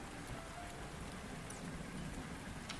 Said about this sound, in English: I'm listening to thunder and rain sounds right now